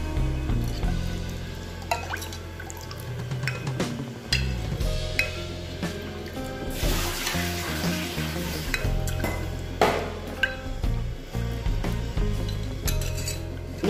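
A spoon stirs spiced pani puri water with cumin powder in a vessel, sloshing and clinking against the sides in close, irregular strokes, with no talking.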